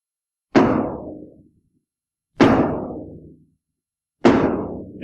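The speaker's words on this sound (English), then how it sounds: "This is the third time of knocking." A wooden gate is struck three times in a 1983 stage production of Aeschylus' Oresteia, with slow, evenly spaced, loud, resonant thuds and long silent gaps between them, and no voices present.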